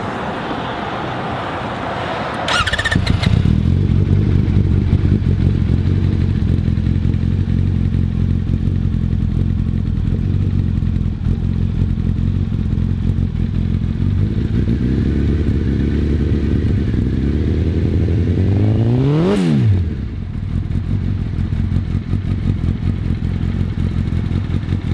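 A nitrous-equipped Suzuki Hayabusa motorcycle engine cranks and fires up, settling into a loud, steady rumbling idle close by, with one sharp rev rising and falling near the end before it returns to idle.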